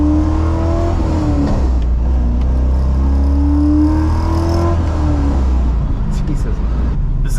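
A C5 Corvette Z06 with an LS6 V8 and LT headers roars loud and close, revving up and down in rising and falling sweeps, with people talking over the engine.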